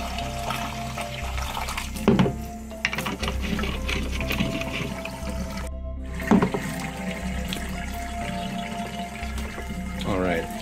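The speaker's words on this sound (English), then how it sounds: "I'm doing several vigorous water changes now" Water running and splashing during repeated vigorous rinses of freshly developed Ilford Pan F 50 film negatives, continuous and fairly close, with a couple of louder sloshes and a voice over it.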